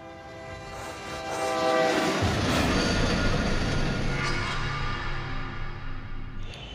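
A train rumbles past nearby with a long, sustained horn blaring over the growing roar and clatter of the cars, no voices.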